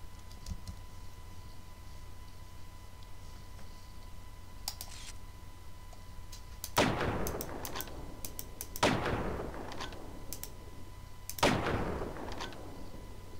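Three sharp gunshots at targets in the shooter game Half-Life: Opposing Force, spaced a couple of seconds apart over a steady hum, with a few faint ticks between them and no talking.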